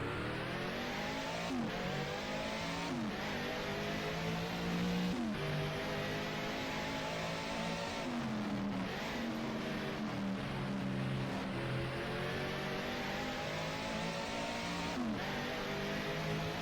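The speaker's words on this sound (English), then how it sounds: "Okay, so I've turned the engine up and let's just go see if we can match the time that Jackie Stewart set in qualifying" A 1971 Formula 1 car is driven at Monaco in a video game. Its engine drones faintly and continuously, rising in pitch and dropping sharply at each gearchange or braking point throughout the lap.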